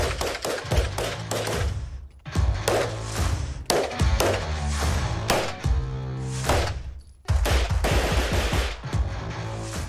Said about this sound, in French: Pendant plus d'1 heure, les balles fusent à travers la salle.